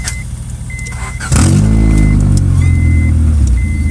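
A car's engine idles, then jumps to a louder, fuller running note as the car is shifted into gear, holding steady close by with a faint high whine above it.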